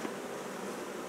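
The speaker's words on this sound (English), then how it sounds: "The bees are scent marking the entrance, saying the queen's in here" Honeybees buzz at a hive entrance after a new queen has been introduced, a dense, steady close-up hum of many wings that carries evenly through the whole short stretch.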